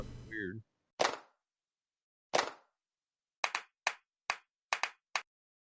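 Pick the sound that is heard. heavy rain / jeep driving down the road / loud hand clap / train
loud hand clap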